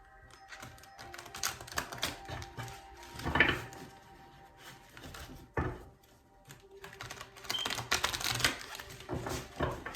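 A deck of tarot cards is shuffled and gathered at close range, giving a run of crisp, clattering card taps and riffles that come in irregular bursts.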